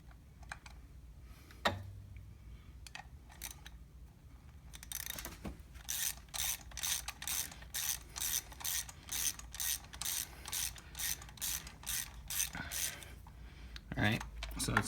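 A ratchet clicks in a fast, even series of sharp ticks, close and distinct, while spark plugs are threaded into a Chevy Cruze engine with a misfire, with a few scattered clicks and handling noises first.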